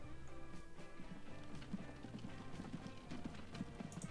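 Horse hooves clip-clop steadily as a horse-drawn convoy moves along in the Transport Fever video game, a continuous soft rhythmic patter over faint game ambience.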